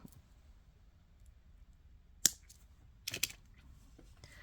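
Beading wire being snipped with cutters after a loop is formed for a pair of dangle earrings: one sharp close click, then a short cluster of small clicks, with quiet between.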